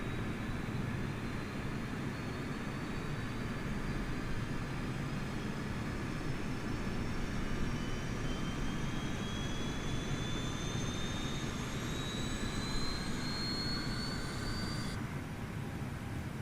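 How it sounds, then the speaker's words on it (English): An Airbus A320neo auxiliary power unit in Microsoft Flight Simulator spools up with a steadily rising whine over a constant loud roar, which cuts off abruptly near the end. No talking. "Let's go ahead and hit the APU on."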